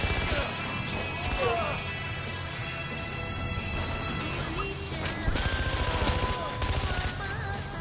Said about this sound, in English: Why can I not shoot them?